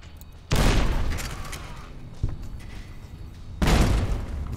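Frag grenade blasts in the video game Fallout: New Vegas, two loud booming explosions a few seconds apart with a fainter thump between, each decaying into rumbling noise.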